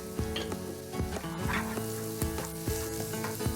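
Radish pieces sautéing in oil in a pan over a low flame with turmeric and garam masala, a steady close sizzle punctuated by repeated clinks and scrapes of a stirring spoon.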